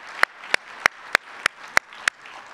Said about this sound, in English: you deserve a huge round of applause for everything that you did